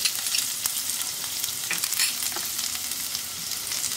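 Ajwain seeds and garlic fry in hot oil for a spiced curd okra dish, giving a soft, continuous sizzle with light crackles and stirring scrapes, fairly quiet and close.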